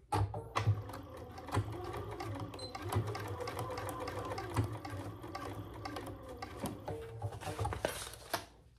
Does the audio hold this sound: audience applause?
no